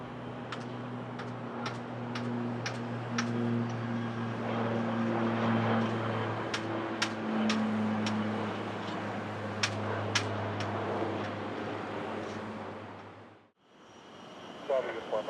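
Airplane landing at Tampa airport, a steady droning roar of aircraft engines with sharp ticking clicks over it, holding level before cutting off abruptly near the end; radio voices are heard.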